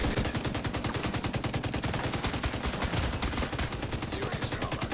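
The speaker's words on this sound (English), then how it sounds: "I'm being shot at from behind." Rapid automatic gunfire rattles without pause in The Division 2, a loud dense stream of shots coming from behind the player.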